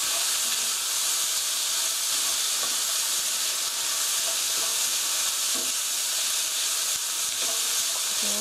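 Sliced mushrooms and bell pepper stir-fry in a hot pan for a tofu sauce rice bowl, a loud continuous sizzle and hiss with occasional scraping stirs throughout.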